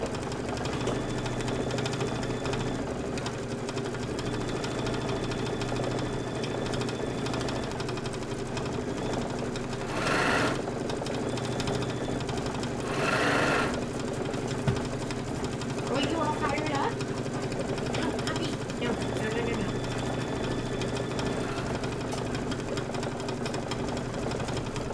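A sewing machine piecing quilt fabric for a Kimberbell Pumpkins & Potions quilt back hums steadily throughout, close and continuous, with a couple of louder bursts midway and some faint talk and household sounds over it.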